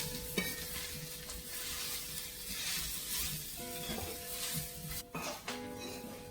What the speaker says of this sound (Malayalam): കൂടി നന്നായിട്ടൊന്ന് വാടി വരുമ്പോൾ ചക്ക ഇട്ട് കൊടുക്കാം. ഇത് നന്നായി ഇളക്കി ഡ്രൈ ആക്കി എടുക്കുക.